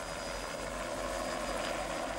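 A helicopter carries wealthy tourists on a short sightseeing trip over Haida country. Its steady, distant rotor and engine drone holds evenly throughout.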